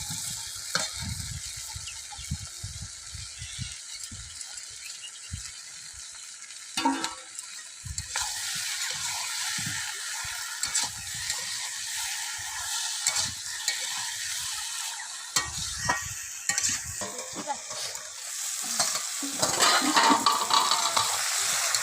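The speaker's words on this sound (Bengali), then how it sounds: "এবার আলুগুলো দিয়ে সুন্দর করে কষিয়ে নেবো" Desi chicken curry with potatoes sizzles and fries in a pan, with repeated scraping stirs and clinks running throughout, close and fairly steady, getting busier near the end.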